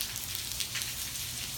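Steady rain falling outdoors during a thunderstorm, a dense even hiss of drops on surfaces, close and continuous with no voices.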